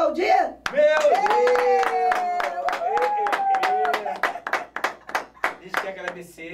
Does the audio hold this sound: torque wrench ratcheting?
no